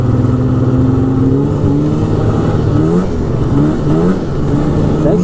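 A 2002 Polaris Super Sport 550 fan-cooled snowmobile engine revs hard and close, its pitch climbing and dipping through several loud throttle swells with no talk.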